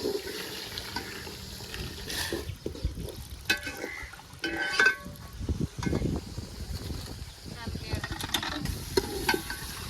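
Spoon stirring a pot of biryani in a home kitchen, with scraping and clinking that is steady and continuous for about ten seconds and louder in a few bursts. Running tap water and other kitchen clatter sound alongside it.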